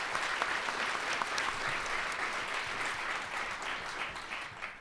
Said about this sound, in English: So again, round of applause for each of them